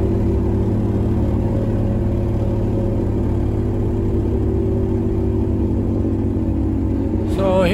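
Carbureted car engine running at low speed on its idle circuit during a road test: a steady, loud, even drone with a constant low rumble throughout and a brief higher whine at the end.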